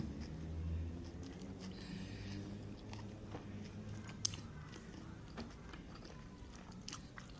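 Close, soft chewing and biting of pempek, a Palembang fish cake, in a quiet room: continuous moist mastication with occasional crunchy bites and one brief sharp click, no talk.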